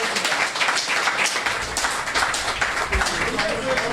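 A press-conference audience claps for the president, producing a dense patter of hand claps that carries on steadily beneath people talking.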